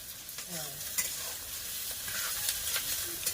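Sliced onions frying into crisp beresta for biryani, a steady close sizzle with scraping stir strokes and occasional clinks of the spatula against the pan, no voices.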